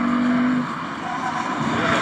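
Lexus RC-F engine in Sport Plus mode pulling hard under acceleration, a steady loud mechanical drone with a brief tonal whine early, dipping slightly then building again.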